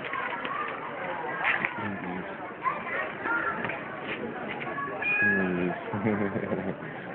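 A pet cat meows several times in a home, short mews mixed in among close, soft talking to the animal.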